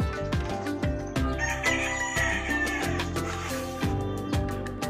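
Hens from a backyard flock clucking and squawking in short, sharp bursts, close by and fairly loud, with busy chicken chatter throughout and no talking.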